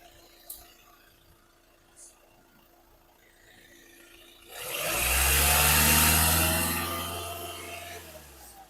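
A 2017 Hyundai i20 Sports diesel engine idles quietly through the first half under faint scuffs. Then a louder whooshing swell rises with the engine's low hum and slowly fades toward the end.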